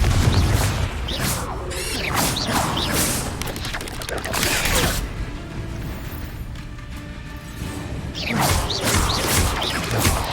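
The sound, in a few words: spell casting effects in Hogwarts Legacy video game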